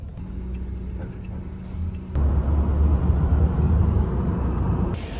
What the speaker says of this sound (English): So we're just in the taxi ride out there now.